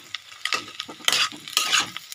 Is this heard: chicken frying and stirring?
yes